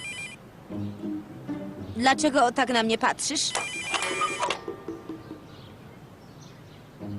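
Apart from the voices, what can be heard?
telephone ringing in a cartoon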